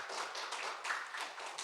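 Church congregation clapping steadily to celebrate a new senior pastor at a first Sunday service, a soft, even patter of many hands with no voices over it.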